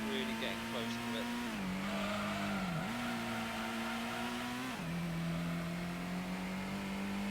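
Honda NSX race car in the Gran Turismo video game, a steady droning engine note at sustained high revs that dips briefly twice as it shifts or brakes, then holds on, loud and continuous with faint talk beneath.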